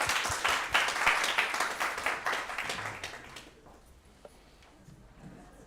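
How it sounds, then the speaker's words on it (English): An audience applauds after a lecture on church architecture, with dense clapping for about three and a half seconds that thins and fades into scattered claps and quiet room noise. "But a huge round of applause again to Cole."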